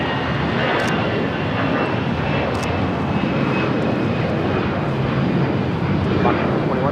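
An Airbus airliner at LAX roars steadily with a loud, broad jet rumble that fills the whole stretch, with faint radio voices underneath.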